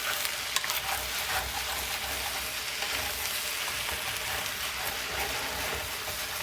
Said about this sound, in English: Scrape the bottom of my pan